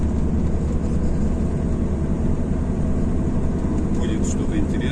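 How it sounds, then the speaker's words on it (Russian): A heavy truck engine pulling a lowboy trailer runs smoothly on its first trip after an overhaul, on a ring road outside Vologda. The drone is steady, loud and low, with road and cab rumble and no breaks. "Двигатель работает в принципе ровно."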